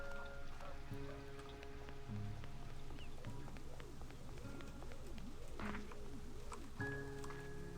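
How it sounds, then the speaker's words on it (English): Rain falls steadily in the video game Slime Rancher 2, a soft continuous patter under quiet tonal game music and occasional bird coos. "I hope this rain isn't being detrimental to my fire slimes."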